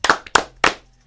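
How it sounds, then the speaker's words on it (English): Three sharp, close hand claps ring out in quick succession, each crisp and loud, followed by a brief quiet. "So those guys, 3 claps for Rohan Davey and Kevin Falk join us."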